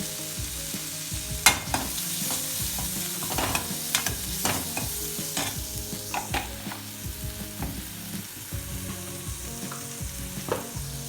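An Indian-style spiced onion stuffing sautés in a pan, a constant gentle sizzle punctuated by frequent spatula scrapes and taps against the metal, close up with no voices.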